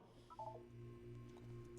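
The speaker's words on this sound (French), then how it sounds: "Vous allez entendre une sonnerie" Faint electronic ringing chime from the Portal video game, a short bright tonal burst early on and then a sustained hum, quiet overall with no talk.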